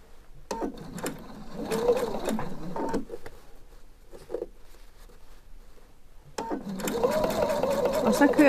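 A domestic sewing machine stitches around the curved edge of a stand collar in close, steady mechanical bursts, pausing in the middle before running again, with a voice speaking at times.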